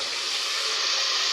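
Steady sizzling of meat frying with onions in a pan, a continuous bright hiss that holds even and close throughout with no pauses or talking.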